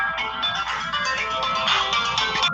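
A mobile phone ringtone plays loudly and steadily as a continuous melodic ring, close by and without speech over it.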